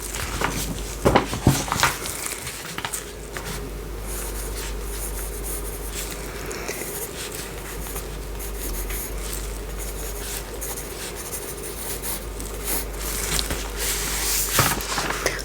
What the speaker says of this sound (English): gonna write a few notes down